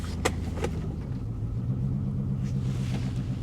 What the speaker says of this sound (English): Little exhaust leak